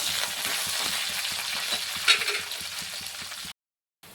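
Garlic and coriander leaves frying in a pan for a white bitter gourd dish, a steady close sizzle with a brief louder spatter midway, cutting to silence near the end before a faint return.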